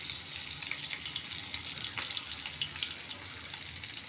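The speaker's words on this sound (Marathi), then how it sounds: "आपण मोहरी इथं टाकून घेऊया थोडी जास्त." Mustard seeds sizzle and crackle in hot oil for a dhokla tempering, a steady frying hiss with scattered small pops close by.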